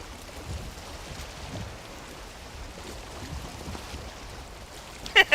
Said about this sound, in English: Oh, it's raining, Otter.